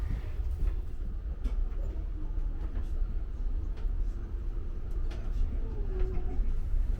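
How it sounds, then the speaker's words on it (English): Saphir Odoriko limited express train departing Tokyo Station, a steady low rumble of rolling rail cars with faint clicks and distant station sounds, continuous and moderately loud throughout. "the train is about to depart from Tokyo Station"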